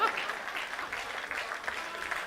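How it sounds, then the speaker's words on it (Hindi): An audience at a Hindi comedy poetry performance claps in a burst of dense, steady applause that lasts about two seconds, with no speech over it. "जितनी आपने तालियां बजाई है"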